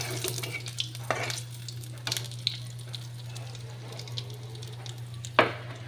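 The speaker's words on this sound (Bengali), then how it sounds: "এবার আমি তেলের ওপরে একটা তেজপাতা ফেলে দিলাম" Bay leaf, dried red chili and whole cumin sizzle in hot oil in a wok, a soft steady crackle with a few sharper pops and clinks, with no one speaking.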